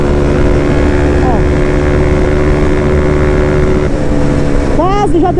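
A Honda CB 300 motorcycle engine roars at high revs near 180 km/h, a steady loud whine that shifts pitch briefly near the end as the rider changes gear.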